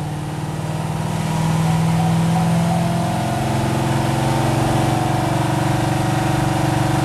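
A car engine runs in third gear at 2800 RPM under steady throttle, making a continuous droning hum that holds an even pitch and loudness throughout, with no talk.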